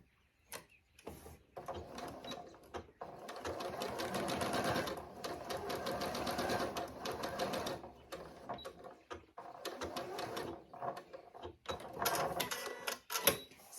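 An Elna 720 Pro sewing machine stitches in several runs, a rapid mechanical whirring that starts, pauses and resumes, fairly close and clear against a quiet room.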